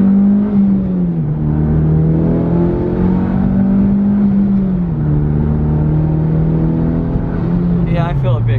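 Mitsubishi Evo 9 on stock coil and plugs pulling hard, a loud, steady engine drone holding a low pitch, easing off and building again twice as it shifts through gears, with voices talking faintly over the cabin noise.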